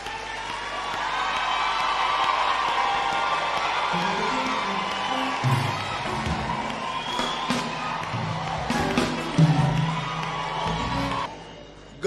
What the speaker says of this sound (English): Only can we clap for Ramaphosa?